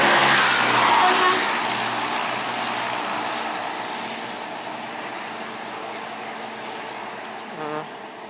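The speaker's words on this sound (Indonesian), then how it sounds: "Bus Fajar Riau Wisata Mercedes-Benz OH 1626 tujuan Dunai ke Pekanbaru." A Mercedes-Benz OH 1626 bus runs fast along a road in Indonesia, its loud engine roar and rushing wind peaking at the start, then fading into a steady, receding drone.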